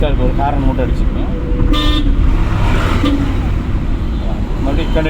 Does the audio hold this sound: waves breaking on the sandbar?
no